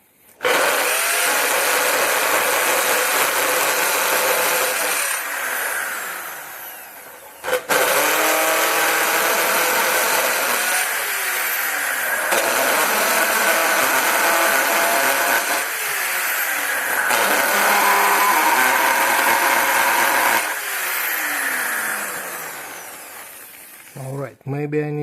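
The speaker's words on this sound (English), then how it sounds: "So we're gonna try to use it to drill 4 holes in this sheet of metal." A Towallmark 7.5-amp hammer drill with an aluminum alloy housing and a 1/2-inch chuck bores holes in a sheet of metal. It makes several long, loud bursts of grinding whine, separated by short pauses and a final clatter.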